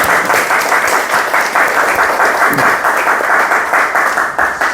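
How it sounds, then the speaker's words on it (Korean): Seminar audience gives thanks to a donor with loud, steady applause from a full room, continuous dense clapping throughout with no pause. "우리 감사의 박수 한번."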